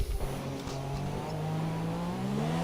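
A race car in a sim racing game on the Bahrain circuit pulls away to start its lap. The engine note is steady and rises in pitch as it accelerates, at moderate volume, with no talk over it.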